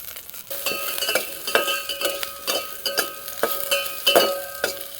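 Ginger and curry leaves frying in oil in a pan for kattu saaru, with a steady sizzle under repeated metallic clinks and scrapes of a stirring spoon at a quick, uneven rhythm.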